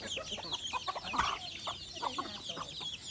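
Chickens cluck in a rural village yard, several short clucks scattered through the clip at a modest distance and fairly soft.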